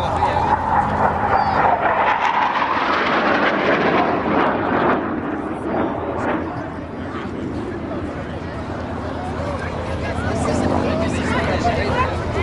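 A Discovery Air F-86 jet flies over a Gatineau airshow crowd, its loud sustained roar swelling then easing and swelling again beneath continuous crowd babble and announcer talk.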